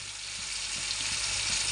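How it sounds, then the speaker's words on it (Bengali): Milk sweets bubbling and simmering in a pot as they cook down to a thick kheer-like mass, a steady close sizzling hiss with soft irregular bubbling pops throughout. "এই যে বন্ধুরা মিষ্টি ফোটে টকবক করে"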